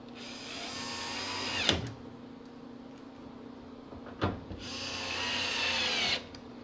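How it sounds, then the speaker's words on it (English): A power drill drives screws back into a GE gas dryer during a propane conversion, in two whirring bursts that each end in a sharp clunk, with a quieter hum between them. "we switch bits again, and we're going to put these 4 screws back in"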